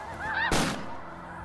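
Snow geese honk during a hunt in Manitoba, a few clear calls followed by a sharp loud shotgun blast up close, then a fading tail of open-air ambience.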